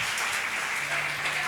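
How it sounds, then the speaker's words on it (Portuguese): Applause from a church congregation, a dense steady wash of many hands clapping at moderate loudness throughout, with no voices standing out. "Aplauda ao Senhor a vida dela"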